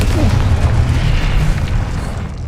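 A Confringo blasting-spell explosion in Hogwarts Legacy booms as a loud, sustained low rumble that fills the whole moment and slowly tails off.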